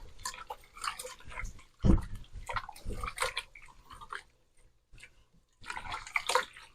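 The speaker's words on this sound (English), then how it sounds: "Stir that together." Chipotle pork stew being stirred in a pot after a cup of water is added, with wet scraping and sloshing in irregular bursts, close and moderately loud, broken by brief pauses.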